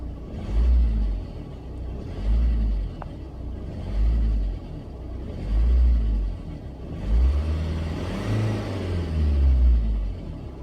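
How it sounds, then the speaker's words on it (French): A car engine, checked with a scan tool during a diagnostic, is revved in about five separate bursts, each rising to a loud, close rumble and falling back to idle between pulses. "Donc je m'amuse à accélérer."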